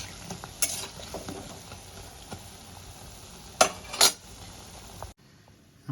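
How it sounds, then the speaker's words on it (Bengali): Chana dal fritters with potato deep frying in hot oil, giving a steady low sizzle with a few sharp metallic clinks of a utensil against the pan, close by and with no talking. "এবার আমি বড়া বড়া করে আকারে ভেজে নেব।"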